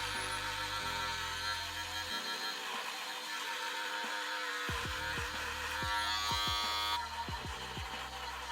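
A Wahl AquaBlade electric shaver hums in a steady close buzz while shaving a head, its pitch shifting as it moves over the scalp, with no talk.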